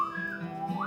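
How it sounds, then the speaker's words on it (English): A person whistles a short, wavering melodic tune at moderate loudness, the pitch gliding down and then rising again at the end, with no talking. "You whistle, right?"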